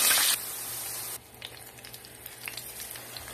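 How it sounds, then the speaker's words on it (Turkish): Potato pieces frying in a shallow layer of vegetable oil, a steady hissing sizzle close to the pan after a brief louder burst at the start, with no talking. "sıvı yağ aldım ve patateslerimi çok az kızartacağım"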